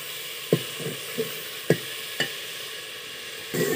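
Masala is stirred in a frying pan with a few sharp scraping knocks of a utensil against the metal over a low background sizzle. There are no voices.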